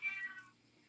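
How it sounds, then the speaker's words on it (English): A cat meows once, fairly faint and short, in an otherwise quiet indoor room. "Sorry about the cat."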